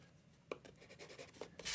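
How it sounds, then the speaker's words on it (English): A blending pencil rubs over colored pencil on paper in faint, soft, scratchy strokes, with several short close passes in a quiet room. "I can blend that together with a blending pencil."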